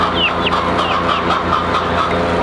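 A chicken in a backyard flock clucks and calls close by, with several short rising squawks over a steady, busy hum of other fowl.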